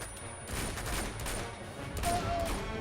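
Rapid bursts of gunfire in the video game Uncharted 2, clustered volleys of sharp cracks at a moderate level over continuous background game noise.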